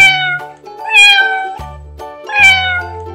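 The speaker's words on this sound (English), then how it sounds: "Cat." A cartoonish cat in a children's animal painting game gives two loud, clear, drawn-out meows separated by a short pause, over light background music.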